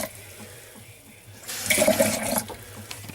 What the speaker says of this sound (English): next thing is just to put water in there